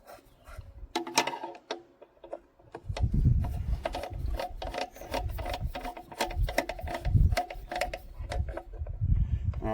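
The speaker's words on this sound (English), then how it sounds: "Oh yeah, screws are all going back in." Screws are worked back into an old Lister engine by hand, with irregular metallic clicks, scrapes and rubbing sounds close by, some bursts louder than others.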